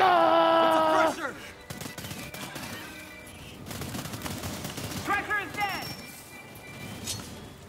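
Gunfire in the co-op shooter Earthfall during a last stand against turrets, rapid crackling bursts following a loud tonal blare at the start, with players talking and yelling over the shooting.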